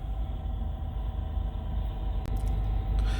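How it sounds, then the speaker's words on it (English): An older non-emissions truck with a Detroit diesel engine runs steadily nearby, a constant low rumbling drone with a faint click near the end and no talking. "I always like the sound of the older non-emissions trucks too."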